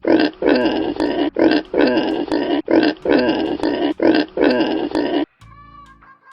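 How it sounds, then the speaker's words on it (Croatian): A wild boar grunts loudly and repeatedly in rough, rhythmic bursts up close, then falls quiet at the end. "Divlja svinja."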